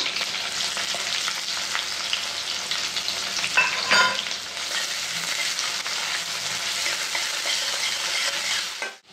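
Chopped onion sizzles in hot oil with curry leaves and sliced green chillies in a pan, a steady crackling fry with stirring scrapes throughout and a brief louder clatter midway.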